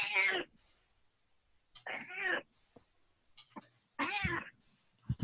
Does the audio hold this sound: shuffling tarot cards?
no